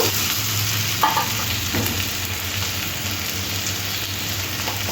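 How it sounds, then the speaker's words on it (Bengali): Pumpkin and potato pieces fry in a pan with a steady, dense sizzle, close and continuous, with a few soft stirring scrapes along the way. "কুমড়োটা খুব ভালো করে একটু ভেজে নিয়েছি"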